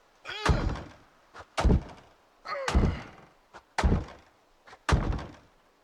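Hunting-knife strikes in the video game Project Zomboid land as six heavy, close thuds, spaced about a second apart, each with a short tail.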